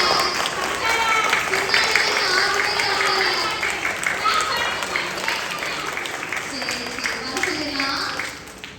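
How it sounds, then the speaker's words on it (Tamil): An audience at a vacation Bible school final-day celebration gives sustained, dense applause to welcome guests, with voices speaking over the steady clapping before it fades near the end. "அவங்க எல்லாத்தையும் ஒரு கைதட்டு கொடுத்து அவங்கள கூப்பிடலாமா?"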